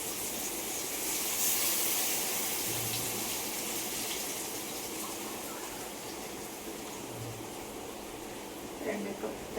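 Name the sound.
water poured into cooking pot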